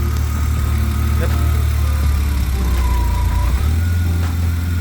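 Car engine idling steadily as the VANOS system advances the camshaft, a continuous low rumble with a slight shift in tone partway through, no talking.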